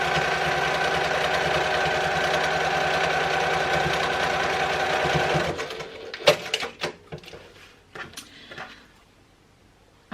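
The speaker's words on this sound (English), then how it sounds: "So I'm going to sew this side first at a 1/4 inch" A sewing machine stitches the side seam of a small triangle pouch at a quarter-inch allowance, running loud and steady in a fast rhythmic whir before stopping. Scattered clicks and fabric handling sounds follow the stop.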